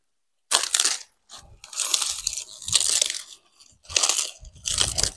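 Outer leaves are peeled off a winter cabbage at an allotment, making close, irregular crunching and tearing bursts separated by short quiet gaps.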